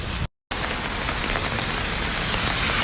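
Steady rain pours down on an outdoor scene in Taif, Saudi Arabia, a dense continuous hiss of drops striking surfaces, broken by a brief moment of total silence near the start before the downpour continues unchanged.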